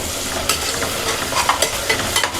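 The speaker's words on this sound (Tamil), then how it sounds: "இஞ்சி பூண்டு இதுபோலே நல்லா வதக்கலாம்" Ginger-garlic paste and onions sauté in a pan, a steady, dense sizzle running throughout with scattered spoon scrapes and clinks as the mixture is stirred, close and moderately loud, with no talking.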